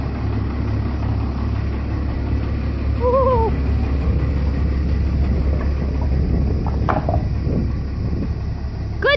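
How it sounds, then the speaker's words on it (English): A Dodge Cummins D250 diesel engine runs steadily with a fabricated welded exhaust, giving a continuous low rumble throughout, with brief voices speaking over it. "listen to that. Just the sound of the engine now."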